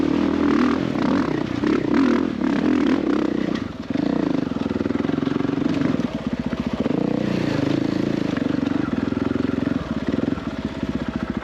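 Off-road motorcycle riding, a mid-pitched engine droning steadily and close with rhythmic revving, brief dips in power and scraping clatter from the terrain.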